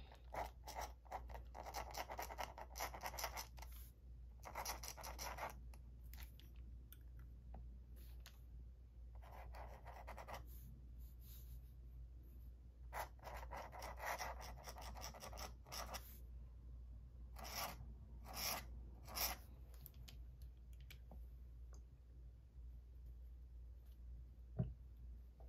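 A dip pen nib writing with Diamine Golden ink on paper, giving bursts of fine scratchy strokes separated by short pauses, close and quiet in a still room.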